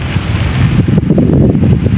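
Strong wind buffets the microphone at a fishing spot on the seashore at Dampalit, a loud, continuous low roar with crashing surf blended underneath.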